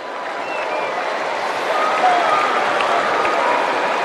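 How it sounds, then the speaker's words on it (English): A large crowd applauds at an AFL match between Brisbane and Gold Coast, a dense wash of clapping that swells slightly midway and holds steady, broad and distant-sounding across the stadium. "Why don't you give yourselves a round of applause for turning out tonight?"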